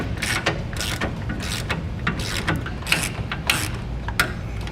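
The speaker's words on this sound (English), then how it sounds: "we need to take a 13mm socket. We're going to remove our old bump stop, which is located right here above our axle." A ratchet with a 13mm socket on a swivel and extension turns out the bolt of an old rear bump stop above a vehicle axle, making repeated close clicking bursts in an uneven rhythm, with no talk.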